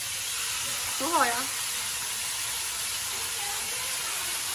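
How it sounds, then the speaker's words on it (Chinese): A pan sizzles steadily while a second batch fries, a constant hiss that runs the whole time, with a short voice speaking briefly near the start. "大哥在煎第二锅吗？"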